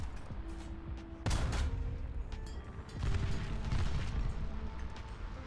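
Gunfire from War Thunder tank combat, with a dense burst of shots and booms near the start and another heavy volley around the three-second mark, loud and close with rumbling between bursts.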